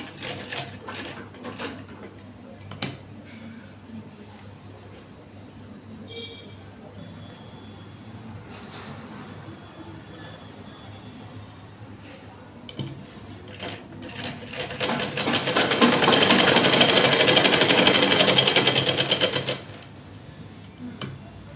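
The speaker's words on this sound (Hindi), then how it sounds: "अब इसी निशान पे हम सिलाई लगा देंगे।" A sewing machine stitches a pant along a marked line, a quiet intermittent whir and clicks at first, then a loud continuous run of rapid stitching for several seconds before stopping.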